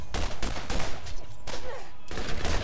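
Pistol shots from the video game Borderlands ring out in a quick run of sharp, loud bursts with short gaps between them, set over a constant game background.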